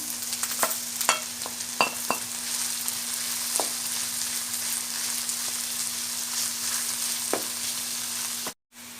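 Minced meat fries in a pan while being stirred: a steady, close sizzle runs throughout, with scattered scraping and clicking from the utensil, and it cuts off briefly near the end.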